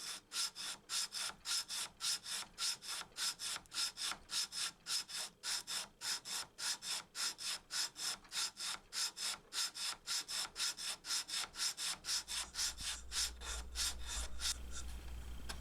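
Sandpaper is rubbed against the wooden heel of a Guild F212XL acoustic guitar neck in steady, rapid back-and-forth strokes, about three per second, each a dry rasping swipe, with a low hum entering near the end.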